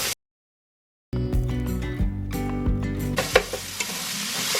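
Minced garlic with salt and pepper stirred in a hot pan, a brief silence then a burst of sizzling with clattering scrapes of a utensil, fairly close and uneven.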